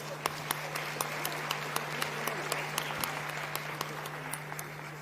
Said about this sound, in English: congratulations everyone, a round of applause